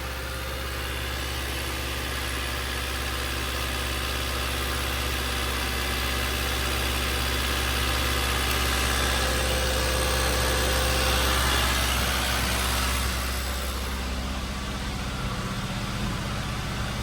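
A four-cylinder car engine with a suspected head gasket leak idles close by, a steady, even rumble with a faint vibration that holds for the whole stretch without talk.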